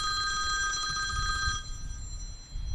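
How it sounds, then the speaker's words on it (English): A loud telephone bell rings steadily for about a second and a half, then cuts off, leaving low room noise and murmur in a podcast studio. "We got loud phones going off."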